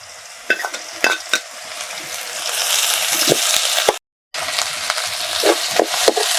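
Ginger garlic paste and curry leaves are stirred into a frying curry, a bright sizzle running steadily beneath repeated scraping clacks of a spoon against the pan, close by, with a brief dropout midway.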